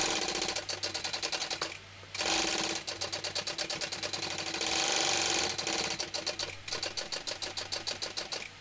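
A sewing machine bastes exterior fabric and lining together at a 1/8 inch seam, its needle chattering rapidly and steadily with one brief pause partway through.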